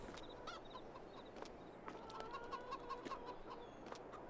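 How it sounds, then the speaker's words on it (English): Chickens cluck steadily in a coop in Farming Simulator 22, with several birds overlapping in soft, busy fowl chatter over a constant ambient farm hum. "Clucking away nice and happily."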